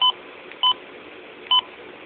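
Three short electronic beeps from the buttons of a Midland WR-120EZ weather alert radio, evenly spaced and clear over a faint room hiss, with no voices.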